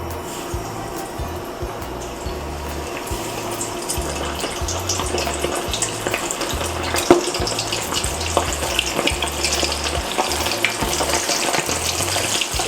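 Chicken pieces deep-frying in hot oil during the double fry for crunchy Korean chicken, a dense continuous bubbling sizzle with scattered sharp pops, loud and close, with a low rhythmic hum underneath.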